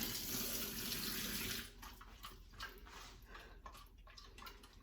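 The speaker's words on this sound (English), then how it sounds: "I'm making sure to rinse each one." Sweet potatoes rinsed under a running tap in a home kitchen, a steady close rush of water that is loudest for the first second and a half, then breaks into softer, uneven splashing.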